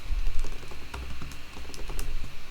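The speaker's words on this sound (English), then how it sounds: "let's type in daily goals" Rapid keystrokes clatter on a computer keyboard, close and continuous, in uneven bursts of light clicks for a couple of seconds.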